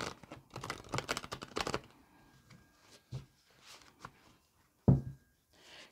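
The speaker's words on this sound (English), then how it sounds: "let's give the cards a good shuffle" A deck of tarot cards gets shuffled close by, a quick burst of crisp riffling flicks for under two seconds, followed by scattered soft taps and one sharper knock.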